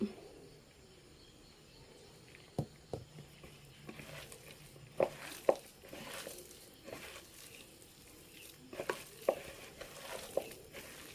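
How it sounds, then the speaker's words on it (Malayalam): Onions worked into batter by hand for crispy fried onion fritters, faint wet squelching and soft taps in irregular bursts, quiet and close, with low background hiss. "ഇങ്ങനെ മാവിട്ടിട്ടിട്ട് നമുക്കിങ്ങനെ കുഴച്ചെടുക്കും അങ്ങനെ മിക്സ് ചെയ്തെടുത്തിട്ടുണ്ട്"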